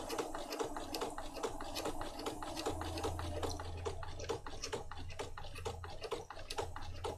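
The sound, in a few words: sewing machine stitching a file folder journal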